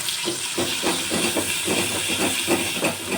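Ginger, chili and garlic paste sizzles steadily as it is sautéed in hot oil with asafoetida, a constant close hiss with soft rhythmic stirring pulses throughout.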